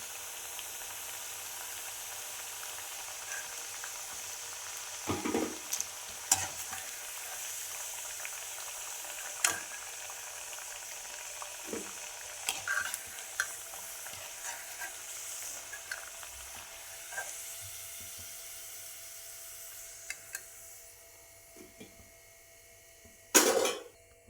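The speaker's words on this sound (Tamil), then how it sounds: "சேப்பக்கிழங்கு நல்லா ஃப்ரை ஆகிடுச்சு" Chunks of taro root frying in hot oil in a home kitchen, a faint, steady sizzle running throughout, broken by scattered sharp clinks and scrapes of a utensil against the pan.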